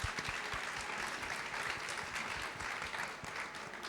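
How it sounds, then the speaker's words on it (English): An audience at a marketing panel discussion applauds in a steady, dense patter of many hands clapping, moderately distant and continuous without voices. "Please give them a big round of applause."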